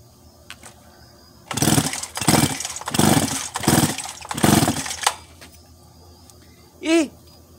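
A chainsaw engine being pulled over by its starter cord for a compression test: five rhythmic, close, loud cranking bursts with no running engine, then a short high chirp near the end.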